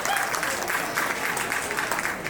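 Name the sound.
audience applause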